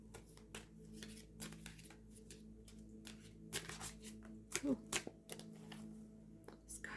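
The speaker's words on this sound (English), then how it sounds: "this deck doesn't really want to shuffle very easily right now" Tarot cards riffle and slap together in short bursts, with pauses between, close by and fairly quiet; a voice murmurs faintly underneath.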